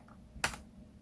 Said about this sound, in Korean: 다시 한번 컨트롤 윈도우 키 엔터키를 누르면 꺼져요